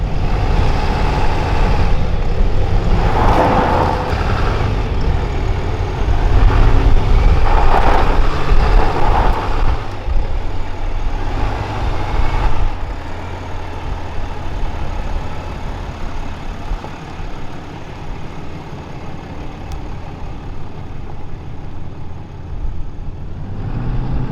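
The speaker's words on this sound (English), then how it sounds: "And of course, you hear that big diesel." A 2023 Ram Rebel HD 2500 diesel truck rumbles off road with a deep, steady engine drone, loud and close, swelling briefly under load before settling into a lower continuous growl.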